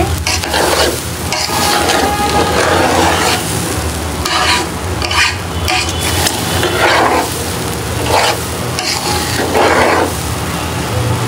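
Polao rice frying in a pot for biryani, a loud continuous sizzle broken by repeated scraping stirs of a spoon against the pot, close up with no talk.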